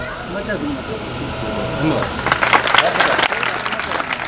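Audience applause swells from a steady murmur into dense, close clapping in a hall at a prize event, with a voice speaking over the first part.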